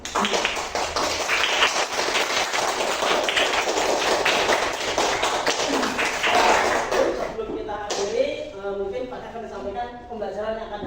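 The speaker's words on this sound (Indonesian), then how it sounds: "Beri tepuk tangan untuk kita semua." A class bursts into sustained applause, a dense wash of clapping for about seven seconds that stops abruptly, followed by a teacher speaking.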